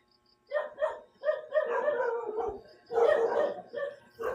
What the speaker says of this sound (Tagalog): so may mga aso guys